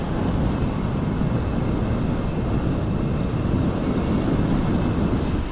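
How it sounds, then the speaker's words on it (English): Strong gusting wind buffets the microphone while cycling outdoors along Toronto city bike lanes, producing a continuous, loud low roar with no breaks. "Oh, also continuing to be super windy."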